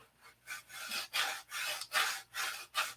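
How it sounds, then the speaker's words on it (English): Sandpaper of 80 grit worked by hand, a steady back-and-forth rasp in about seven strokes, close and fairly quiet with no talking. "this sanding business is just about taking, I'm moving material with 80."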